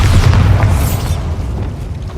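Bombarda explosion spell in the Hogwarts Legacy video game: a heavy, loud booming blast with deep rumble that rolls out and decays over about two seconds, no talking.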